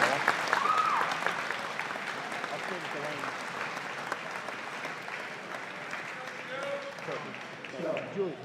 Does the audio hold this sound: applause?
yes